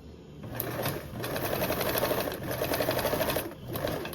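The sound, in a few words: sewing machine stitching the sides of a toiletry bag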